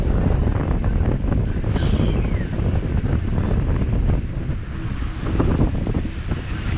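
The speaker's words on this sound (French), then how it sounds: "le vent appuie, et les vagues aussi" Wind and waves buffet a sailboat crossing the Strait of Messina under sail, a loud steady wash of gusting microphone wind and breaking water close by, with no talking.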